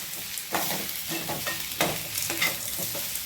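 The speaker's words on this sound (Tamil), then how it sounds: "தேங்காய் போட்டு ஒரு வதக்குனா போதுங்க." Grated coconut sautéing in a pan for mint chutney, with a steady close sizzle broken by repeated scraping stirs of the spoon, no voices.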